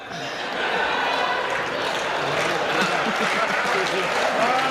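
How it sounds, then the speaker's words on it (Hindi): An audience claps steadily at a live political parody comedy show, a dense, continuous wash of applause that swells after the first half second and holds at an even level. "तालियां बहुत कम बजा रहे हो आप।"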